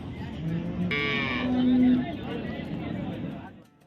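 HF dairy cattle at the Chintamani cattle market give a loud, drawn-out moo close by, amid a busy background of market noise and people talking.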